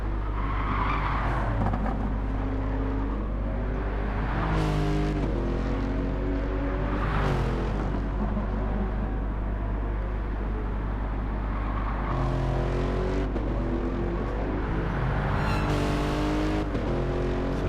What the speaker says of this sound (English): they're not really revving out totally, just gets to the end of the rev band, shifts up